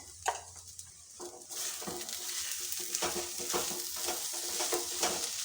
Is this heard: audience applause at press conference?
no